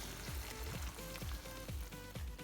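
Tomato sauce poured over fried okra in a hot pan gives a steady close sizzle and crackle, with repeated low thumps from the pouring or stirring.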